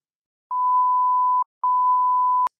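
Two sustained electronic censor beeps at a single mid pitch, each just under a second long, separated by a brief gap.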